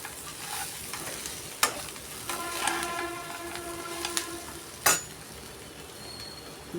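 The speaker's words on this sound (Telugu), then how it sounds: "జీడిపప్పు కూడా వేయించి పెట్టుకున్నాం కదా, ఇవి కూడా వేయించుకోవాలి." Cashews fry in a pan with a continuous sizzle, broken by stirring, a few sharp clinks and scrapes against the pan, close and moderately loud, with no speech.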